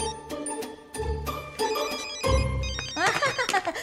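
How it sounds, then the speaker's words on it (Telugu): A mobile phone rings in a hospital, a bright repeating electronic ringtone running through dense background noise and people talking. "Small నిస్ phones ringings."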